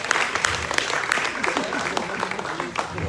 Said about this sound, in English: When they shine, look clap for them again.